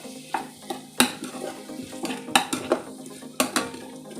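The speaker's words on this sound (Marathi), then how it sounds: "आपल्याला कांदा चांगला गुलाबी जर परतवायचा आहे मध्यम आचेवर आपण हे भाजत आहोत" Onion sautéing over medium heat for a spiced drumstick curry, with a steady sizzle broken by repeated spoon scrapes and clinks against the pan, close and fairly loud, no talking.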